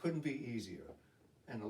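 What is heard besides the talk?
No everyday noise stands out behind the speech.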